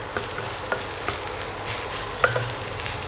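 Sliced small onions and toor dal sizzle in a hot pan, with a steady frying hiss broken by occasional light scrapes and clicks of a spoon stirring them.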